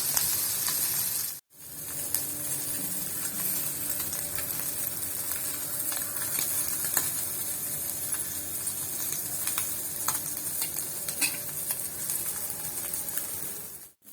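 Anchovies fry in a pan with a steady, close sizzle and hiss that runs almost unbroken, apart from a brief drop near the start and a cut at the very end.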